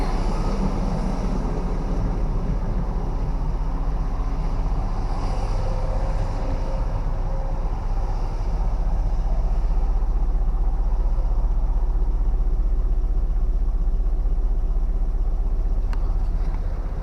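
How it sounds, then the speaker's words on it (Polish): A nine-seat Ford Transit van's engine idles with a steady, loud low rumble, close by and unbroken, with some wind buffeting over it. "odpalił, pracuje w miarę równo"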